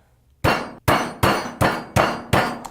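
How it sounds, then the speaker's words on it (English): A meat pounder strikes meat on a board six times in an even rhythm, each hit a loud, close, sharp thud-clang that rings briefly before the next blow. "We're going to use a meat pounder. So what we're going to do is start to pound this thin."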